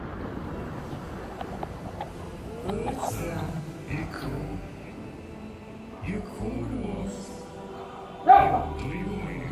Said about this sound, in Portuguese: Cachorros lá.